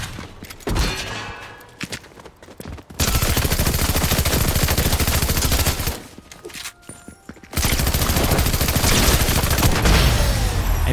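Gunfire in the video game Fortnite comes in dense, loud bursts of rapid shots, one short burst early, then two long sustained volleys separated by a brief quieter gap.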